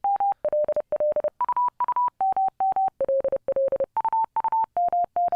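A keyed Morse code practice tone, set around 600 hertz, beeps in clean, steady on-off bursts of short and long tones. The pitch steps between several levels across a continuous run of keyed signals, with no talking.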